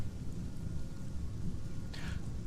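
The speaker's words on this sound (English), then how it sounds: "A light drizzle of silver rain brushes the village." Light rain in the video game Sunless Skies falls as a soft, steady drizzle with a low rumbling wash underneath and a brief brighter patter near the end.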